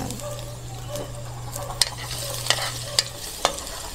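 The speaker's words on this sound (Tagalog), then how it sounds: "igisa muna po natin ang ating bawang at sibuyas" Garlic sautés in hot oil in a pan with a soft steady sizzle and a low hum underneath, broken by four or five sharp clinks of a utensil stirring against the pan.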